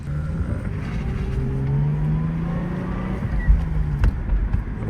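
A 2002 Lexus IS300 accelerates with a steady, close engine drone that rises in pitch, then stumbles briefly on a rough, bad gear shift before pulling on again.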